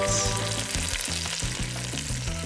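Steady crackling sizzle of shrimp frying in an air fryer at 450 degrees hisses throughout, close and even, with a faint electronic tone pattern running underneath.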